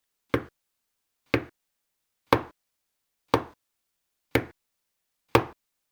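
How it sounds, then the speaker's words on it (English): Six sharp knocks on a door, evenly spaced about one second apart, each loud and close with a short decay, alone in silence. "I knocked on the door 100 times."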